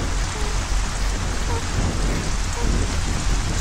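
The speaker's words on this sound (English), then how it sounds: "It's heavy, heavy rain, Mom!" Dense, steady downpour of heavy rain hissing on surfaces, loud and continuous throughout.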